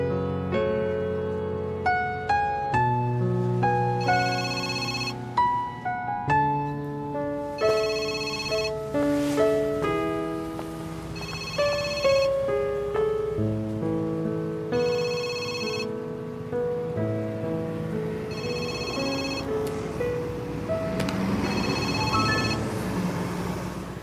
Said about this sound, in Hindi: दाविन का फोन तुमने कैसे उठाया